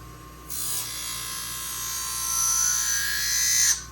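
A Twice As Sharp sharpener's honing wheel buzzes steadily against scissors, a high whirring hum that starts abruptly, swells slightly and cuts off after a few seconds.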